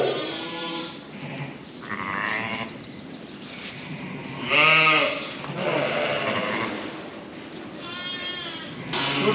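Sheep and lambs bleat repeatedly on a farm, several distinct wavering calls at close range, some overlapping, with quieter background rustle between them.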